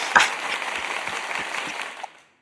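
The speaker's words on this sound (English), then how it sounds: "big round of applause for Lukas" A round of applause for a guest at the close of a talk show, a steady wash of clapping for about two seconds that cuts off abruptly.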